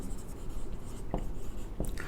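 Marker or chalk writing on a board in a classroom, with short scratchy strokes over a steady low room hum and a couple of sharper squeaks near the end.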